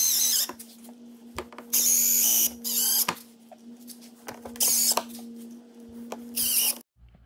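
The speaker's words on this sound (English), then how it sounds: "we're gonna get these last 4 screws here thrown in" Power drill driving the last four screws into a Polaris RZR Mud Buster fender flare; several short, loud whirring bursts separated by pauses and faint clicks, close up with no talk.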